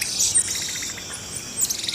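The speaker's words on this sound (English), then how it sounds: "Their bird-like chirps allow the group to stay in contact so that no one gets lost in dense jungle." Cotton-top tamarin monkeys in dense jungle give high, bird-like chirps, a couple of short bright calls standing out over a soft background of insect-like buzzing.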